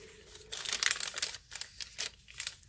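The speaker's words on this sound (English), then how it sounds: "I love the way that copy dyed paper sounds." Stiff coffee-dyed paper crinkling and rustling up close in short bursts, as sheets are shuffled and handled.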